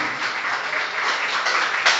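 A church congregation applauds during a service, producing a steady wash of many hands clapping together at an even level for the whole stretch.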